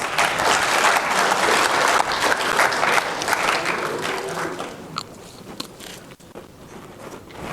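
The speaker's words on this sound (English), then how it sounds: "Let's give my volunteer a round of applause." A classroom audience in a chemistry lecture gives a volunteer a round of applause, loud dense clapping that holds for several seconds and then thins and fades toward the end.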